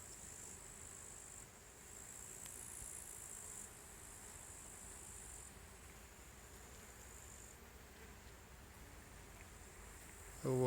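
Bees hum steadily in a flowering linden tree outdoors, a soft continuous insect drone lasting throughout, with a faint brief rustle near the end.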